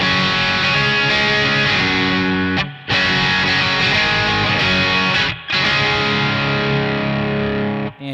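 An electric guitar played through a Boss Katana Artist MKII head with the gain pulled back to a mild distortion, sustained chords ringing loud and steady, with two brief gaps where the strings are cut off.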